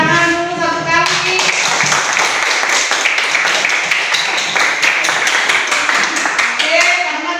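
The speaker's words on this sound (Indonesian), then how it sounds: "kita tepuk tangan dulu satu kali" A classroom of students clapping together, a dense burst of many hands applauding in a room, starting about a second in and running through most of the clip, with a teacher's voice at the start and end.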